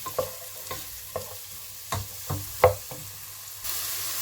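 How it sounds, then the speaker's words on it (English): Two medium sliced onions sweat in a pan with a low, gentle sizzle, broken by scattered knocks and scrapes of a utensil stirring them at close range. No one speaks. "Then I'm going to add in 2 medium sliced onions. We're going to let it sweat for a little while."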